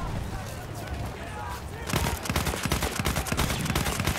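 Rapid gunfire in a Battlefield 1 multiplayer match, a dense crackle of automatic shots that grows louder and busier midway, with voices shouting underneath.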